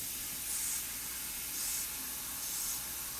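Three soft bursts of spraying hiss, evenly spaced about a second apart, over a faint steady background.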